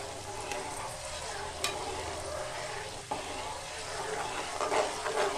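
Steady sizzling and crackling of dried curry leaves frying in hot oil with garlic for a coriander chutney, with occasional stirring scrapes, close and continuous.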